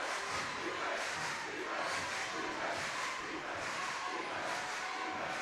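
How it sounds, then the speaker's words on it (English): A high school boys' basketball crowd cheers and roars in a gym after a made three-pointer, a sustained, fairly distant swell of voices with rhythmic surges. "and that gets the crowd going"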